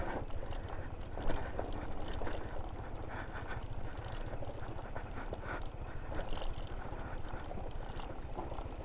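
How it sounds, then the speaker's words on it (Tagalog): Horse hooves clip-clop along a steep rocky mountain road, a steady rapid clatter of hoofbeats close by and continuing throughout. "Uy, may kabayo."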